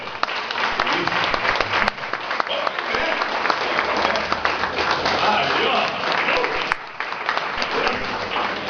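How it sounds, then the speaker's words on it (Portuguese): Brazilian church congregation applauding visitors during a service, brisk continuous clapping with some louder individual claps standing out, and voices murmuring beneath the applause. "Dá uma salva de palmas para eles, né?"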